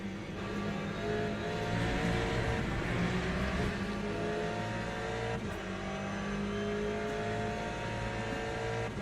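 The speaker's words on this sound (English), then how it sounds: "Gotta have eyes on the back of your head with these hypercars coming through" Hypercars roar past during a WEC endurance racing video game, a continuous loud engine drone with rising and falling revs as cars close in and overtake, no talking over it.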